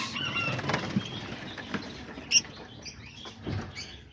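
Peach-faced lovebirds flutter and fly about an indoor aviary, with soft continuous wingbeats, brief rustles and a sharp chirp or clack midway.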